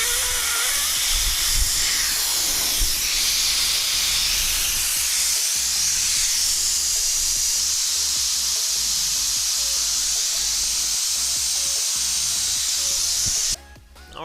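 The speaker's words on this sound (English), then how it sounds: "while you're waiting for your tire to deflate" Air hisses steadily out of the valve of a 35-inch mud tire as it deflates, a loud, continuous broadband rush that holds for about thirteen seconds before cutting off abruptly.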